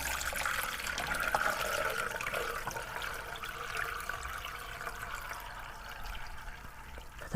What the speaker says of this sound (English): Just going to pour it through the sieve.